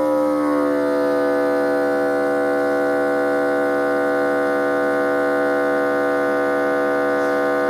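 A vacuum sealer runs with a steady, loud motor hum that holds an even pitch from start to finish, with no voices.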